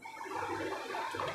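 Room-temperature water is poured into a pot while making namkeen in a home kitchen, a short, steady splashing gush heard close and fairly quiet.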